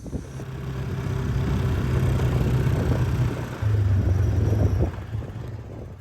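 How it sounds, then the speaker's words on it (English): Strong outdoor wind buffets the microphone along a rural water pipeline near a stock tank, a steady broadband roar with low rumbling gusts lasting the whole stretch, no voices. "the wind's really coming up"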